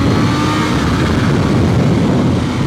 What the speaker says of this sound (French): le truc de cette moto, c'est quand même son moteur